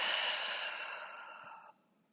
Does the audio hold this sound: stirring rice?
no